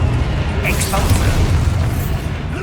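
The Exposo explosion spell cast in Hogwarts Legacy, a loud close boom with a bursting crackle that rumbles briefly, with a voice heard alongside.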